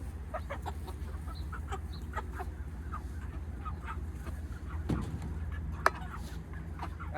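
Fourteen chickens cluck and squawk while being loaded into chicken crates, seven to a crate, a steady run of close, moderately loud clucks over a low constant hum, with a sharper squawk near the end.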